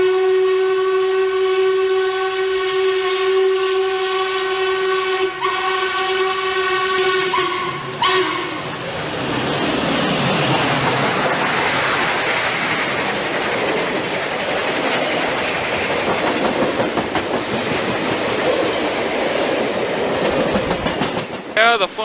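A Class Y6a steam locomotive hauling a charter train up grade sounds a long, loud, steady horn for several seconds, then the train rumbles and clatters past nearby, a dense roar of wheels and cars filling the rest.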